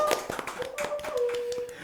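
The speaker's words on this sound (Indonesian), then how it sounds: "Tepuk tangan dulu dong." A few people clap during a podcast recording, with sparse, uneven hand claps under a faint tonal hum, brief and fairly quiet.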